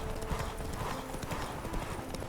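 Horse hooves clip-clopping at a steady trot in The Witcher 3: Wild Hunt, a rhythmic run of hoof strikes up close with game ambience in the background.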